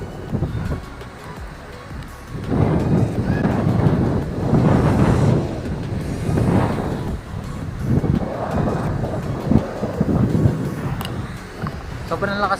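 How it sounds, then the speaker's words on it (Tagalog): Strong wind at a white-sand beach cove in Sual, Pangasinan buffets the microphone in surging gusts, with a broad roaring rush that rises and falls throughout. "sobrang lakas lang ng hangin,"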